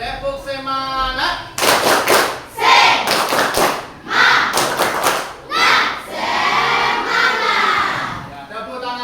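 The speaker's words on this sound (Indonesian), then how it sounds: "Sekali lagi, tepuk semangat." A group of students does a patterned spirit clap in a classroom, bursts of sharp synchronized claps in rhythmic clusters interleaved with chanted voices, close and loud, after a brief spoken lead-in.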